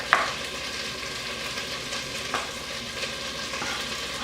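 Zaycon pork sizzles steadily in a hot pan on its own, with a couple of sharp clinks of a utensil against the pan.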